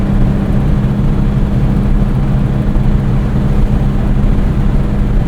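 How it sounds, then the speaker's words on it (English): Modified 1966 Volkswagen Beetle engine droning loud and close from inside the car, a steady low rumble held at high revs without pause and with no talk. "revving it out a bit"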